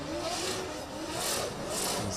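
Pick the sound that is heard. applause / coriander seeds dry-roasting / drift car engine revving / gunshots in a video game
drift car engine revving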